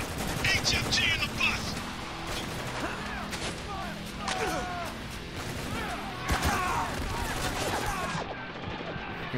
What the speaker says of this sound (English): There's a heavy machine gun over there.